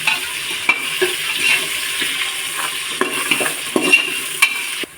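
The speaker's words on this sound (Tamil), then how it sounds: "இதோட கொஞ்சம் உப்பு போட்டுக்கலாம். அப்போ சீக்கிரம் வதங்கிடும் வெங்காயம்." Onions with a pinch of salt sauté in a pan for a healthy paruppu sadam, a steady sizzle broken by the scrape and tap of a spoon stirring at close range.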